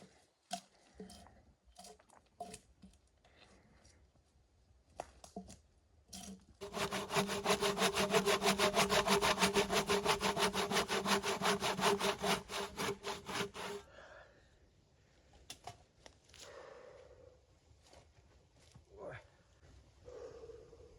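A cordless battery-powered saw cuts steadily through wood logs for several seconds with rapid rasping strokes, loud and close, with brief talk and clatter before and after.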